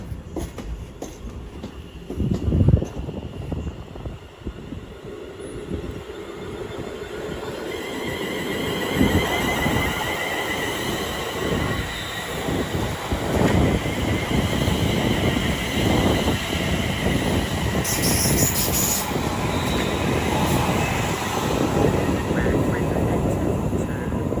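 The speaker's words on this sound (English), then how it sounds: "And here goes the 1832 service to London Euston." A train departing Watford Junction on the West Coast Main Line for London Euston, a rising rumble of wheels and clatter that builds and stays loud and close, with a brief high squeal partway through.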